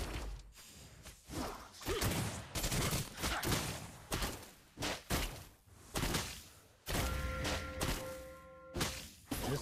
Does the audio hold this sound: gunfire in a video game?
yes